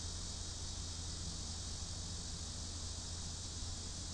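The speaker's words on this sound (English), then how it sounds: "Hear the crickets and cicadas getting a little bit louder." Crickets and cicadas chirp in a steady, dense outdoor chorus, a faint, continuous high-pitched trill that holds evenly from start to finish, with no talking.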